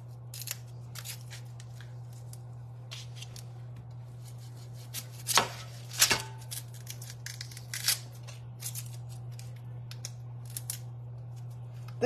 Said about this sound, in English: So I'm gonna cut this part of the onion out back.